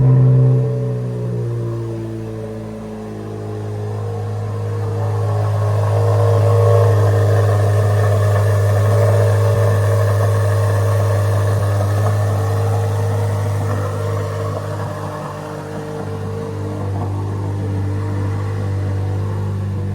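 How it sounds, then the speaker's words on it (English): A 2023 Chevrolet Corvette Z06 with its V8 engine running, a strong steady low rumble that swells slightly in the middle and holds throughout without talk. "let's start this up so you guys can hear the sound of the new American V8."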